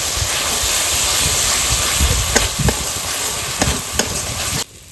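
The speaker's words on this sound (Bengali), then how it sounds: "এবার কাজু বাদাম আর পোস্ত বাটাটা দিয়ে দিচ্ছি এবার বাটি ধোয়া জলটা দিয়ে দিচ্ছি" Loud steady sizzle and hiss from a frying pan as cashew and poppy seed paste and water go into hot oil, with a few spoon knocks and scrapes near the end before it cuts off.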